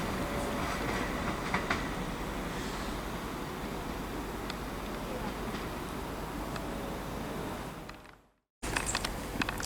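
A Great Western Railway train rumbles through Reading West station with steady rolling wheel noise and faint clicks, continuous and moderately quiet before a brief dropout near the end.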